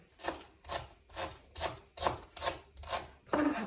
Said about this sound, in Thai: หั่นผักใส่หมดเลยเนี่ย